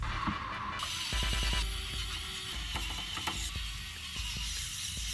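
A power supply being screwed into a roomy black gaming PC case, with quiet close ratcheting screwdriver clicks and small metallic taps in irregular bursts.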